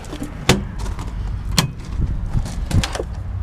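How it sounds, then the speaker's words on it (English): The rear bumper lid of a 2016 Airstream International Serenity 23FB travel trailer is lifted open, with several sharp metallic clicks and clunks at irregular intervals over a low outdoor background. "You have a rear bumper lid that lifts up."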